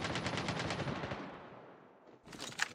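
Rapid automatic gunfire from a shooting video game, a dense burst of repeated shots for about two seconds, then a brief gap before more firing resumes.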